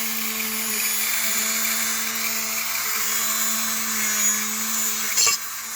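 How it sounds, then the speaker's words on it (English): A handheld Dremel fitted with a small sanding disc grinds steadily on a Honda Goldwing GL1800 valve cover, a continuous high-pitched whine with a faint drop in pitch near the end. "I'm going to clean those up a little bit with my Dremel"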